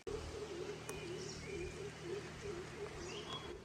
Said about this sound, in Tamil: பறவைங்க சவுண்டு கேட்குதா